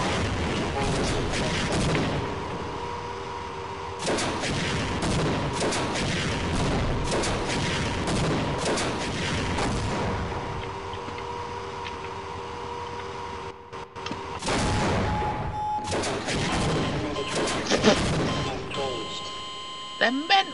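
Rockets and explosions boom during a tank battle in the video game Half-Life, heavy blasts and rumbling bursts recurring through the stretch under a player's voice.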